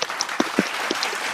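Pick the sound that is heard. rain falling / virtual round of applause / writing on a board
virtual round of applause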